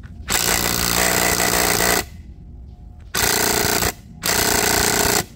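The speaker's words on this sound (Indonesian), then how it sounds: "Ini kalau kita paksain, bisa ngerusak impact drivernya" A Stanley STDC-041LB 12-volt cordless impact driver hammers loudly against a wall in three long, harsh bursts, separated by brief pauses where it stops.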